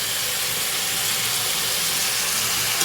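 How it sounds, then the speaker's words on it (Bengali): Chicken fries in a pan with a steady, close, even sizzling hiss that holds unchanged throughout, with no voices. "আর এদিকে চিকেনটা ভাজছি"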